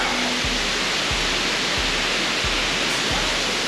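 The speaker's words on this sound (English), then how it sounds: "We just parked so that we could check out this waterfall." A waterfall in El Yunque National Park, Puerto Rico, pours with a constant, loud, hissing rush, and a few soft low thumps pulse beneath it.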